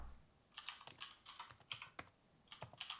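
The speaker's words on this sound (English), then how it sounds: "Now type SFC space / scan now." Computer keyboard typing a command on a Mac running Windows 10, quick light clicking keystrokes in short bursts, faint and close.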